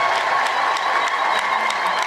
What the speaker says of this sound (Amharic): አቤት ደስ ሲል አጨብጭቡና መልሱ